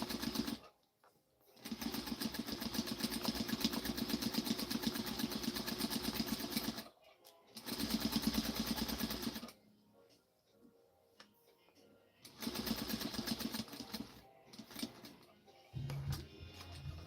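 A sewing machine stitching darts on a garment at its longest stitch, running in three loud, steady mechanical bursts of rapid whirring and clatter separated by quiet pauses, close by, with a brief thump near the end.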